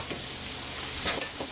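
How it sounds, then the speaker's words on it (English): Sliced mushrooms with shallots and garlic sizzle in a hot pan while being stirred, a close, steady crackle with soft scraping bursts from the stirring. "just continue to give that a stir. Let those mushrooms cook down."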